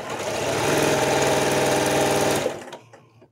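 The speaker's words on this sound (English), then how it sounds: "So let's get this seam sewn and see how she turns out." A Janome sewing machine sews a seam on a Mariners Compass quilt block, making a loud, steady, fast whirring hum for about two and a half seconds before stopping abruptly, followed by a few faint clicks.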